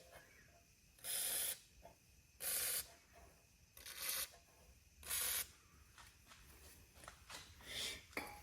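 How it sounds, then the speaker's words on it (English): WD-40 squirted in short bursts onto the engine parts of a Wheel Horse Raider 12 garden tractor, five or six distinct hissing sprays about a second apart, close and crisp over a quiet background. "give a couple things just a squirt of WD-40"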